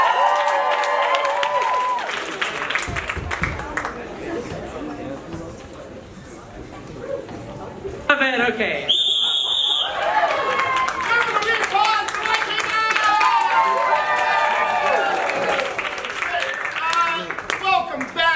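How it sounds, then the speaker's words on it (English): A crowd at a high school Seniors versus Alumni comedy match claps and cheers around halftime, a loud roomful of clapping and shouts with voices talking over it and a brief bright tone in the middle. "Give yourselves a big round of applause."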